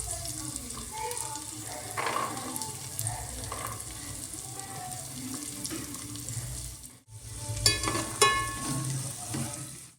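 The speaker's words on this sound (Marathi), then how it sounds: "भाज्या 1-2 मिनटं परतून घ्यायच्या आहेत आपल्याला तुपावरती." Mixed vegetables sautéing in ghee for a homemade Indian veg thali, a steady sizzle with scraping stirs, a brief dip near the middle, then sharper crackles as the pan is stirred again.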